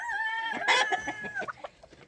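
Chickens clucking and a rooster calling in a backyard flock, a drawn-out crow-like call followed by quick clucks, close and clear.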